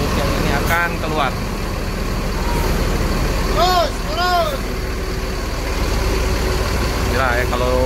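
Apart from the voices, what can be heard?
Rosalia Indah bus engine manoeuvring out of parking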